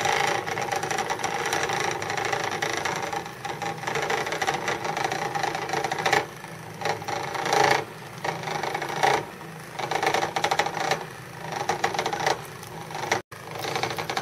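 A Robo Stir automatic pot stirrer turns in a hot pan of cooking eggs, giving a steady close mechanical whir with faint rhythmic clicking and ratcheting gear noise throughout.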